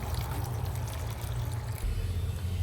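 Water is poured into coconut milk during home cooking, a low steady pouring and sloshing that runs unbroken and slightly heavier toward the end, with no voices.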